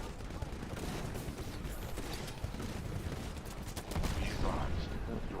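Shotgun blasts in the Titanfall video game aimed at a distant pilot, muffled repeated shots amid a steady din of in-game combat, with a voice talking faintly over it.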